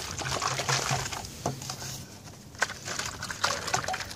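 Natural sulfur powder shaken in water inside a container, giving several sloshing, splashing bursts in an uneven rhythm, heard close and moderately loud.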